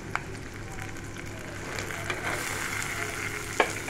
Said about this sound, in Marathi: आलं लसूण थोडंसं रंग बदलला की आपण यामध्ये कांदा टाकून घेणार आहोत.